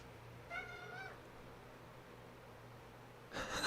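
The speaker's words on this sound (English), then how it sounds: "Never heard those sounds from my cats before." Pet cats meow twice, close and fairly loud: a wavering, drawn-out call, then a pause, then a sharper second cry, each standing alone over a low steady hum.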